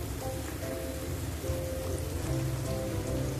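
Masala spices frying in a clay pot (handi) for daal maash, a steady loud sizzle and crackle throughout, close by, with no talking.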